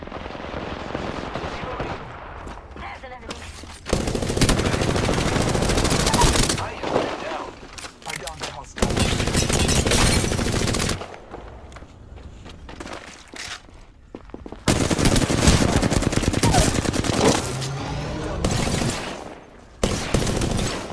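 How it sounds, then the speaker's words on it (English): Bursts of automatic gunfire in a battle royale shooter video game, loud rattling volleys separated by short quieter gaps, with game sounds and faint talk in between. "I am taking fire, friends."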